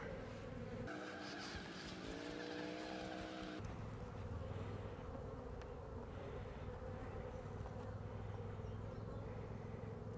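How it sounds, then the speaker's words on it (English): Honey bees hum continuously around an open hive, a dense close buzz with individual bees droning past near the ear, steady throughout with no talking. "These bees are a little on the skittish side compared to that other hive."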